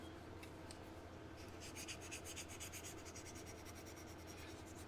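Soft back-and-forth rasping of a buffing file smoothing sanding marks on a scale model, starting faintly and then settling into rapid, regular strokes heard up close at low volume.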